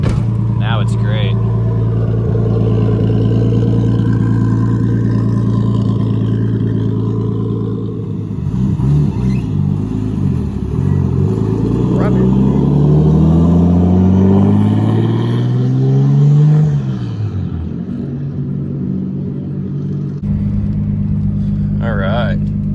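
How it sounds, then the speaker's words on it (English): A drift car's RB25 engine, its idle air control valve just fixed, rumbles steadily up close, its low hum rising and falling as the revs shift, with a person talking over it. "It's idling really smooth."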